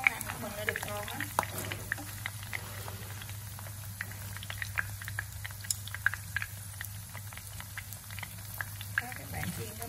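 Sausages sizzling and frying in a pan for a Vietnamese roasted-sausage dish, a steady soft crackle with occasional pops and stirring clicks throughout.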